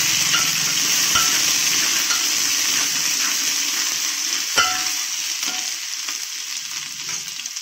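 Garlic-ginger paste spitting and frying in hot oil for a mutton curry, a steady close sizzle with a few sharp pops and spoon scrapes, easing slightly toward the end.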